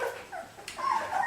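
Aussiedoodle puppies about four weeks old whimpering and yipping in short, high whines, close by, several little cries overlapping across a second with no talk.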